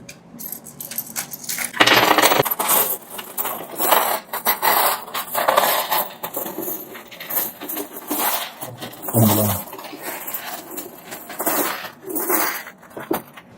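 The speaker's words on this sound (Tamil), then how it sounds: "எல்லாமே இலங்கையினுடைய நாணயங்கள் பத்து ரூபாய் நாணய குட்டிகள்" Sri Lankan ten-rupee coins pour out of a piggy bank in a long, clattering metallic cascade, dense jingling and scraping of many coins continuing loudly throughout without speech.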